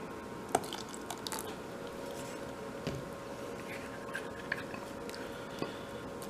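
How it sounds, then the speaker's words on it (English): Melted butter is poured into thin crepe batter, making a faint, quiet liquid trickle with a few soft drip-like splashes against low background noise. "I'm also going to put in my butter. So this is my melted butter."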